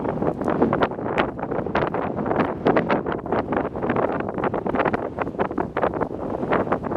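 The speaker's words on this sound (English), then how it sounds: "even though it's a little windy" Steady, gusty wind buffets the microphone with a constant rough roar that rises and falls slightly throughout, on a hiking trail in Skarðsdalur near Siglufjörður, northern Iceland.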